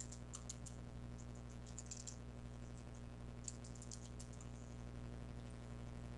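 Faint, irregular keyboard clicks as someone types text into Autodesk Inventor 11 CAD software on a computer, scattered in brief bursts over a steady low electrical hum.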